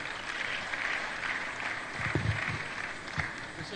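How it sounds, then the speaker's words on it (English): Steady applause from an audience after a speech at a management retreat, a dense, continuous patter of clapping that holds at an even level for several seconds with a few louder swells. "let's keep the applause going"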